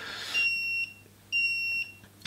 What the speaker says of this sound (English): It's going to beep for 15 seconds.